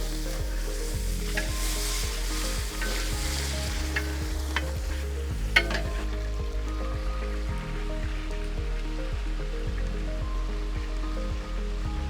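Whole spices frying in hot oil in a pan for a fish curry, a loud, dense sizzle that runs unbroken and close for the whole stretch, with faint stirring beneath.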